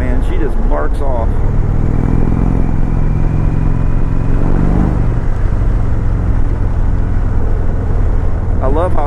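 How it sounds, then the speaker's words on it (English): A 2019 Indian Chieftain Dark Horse motorcycle with its stock exhaust rumbles steadily at close range, rising in a couple of brief revs, while wind noise and occasional talk run over it. "I love how everybody, Indian included, is making the stock exhaust sound really, really good."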